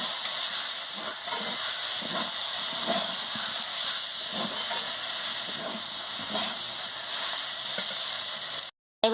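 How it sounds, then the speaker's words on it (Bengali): Mustard paste being stirred in a hot pan gives a constant bright hiss of frying with soft rhythmic scrapes of a spatula every second or so, ending with a brief cut to silence. "সরষে বাটা দিয়ে ভালো করে নাড়িয়ে নিচ্ছি।"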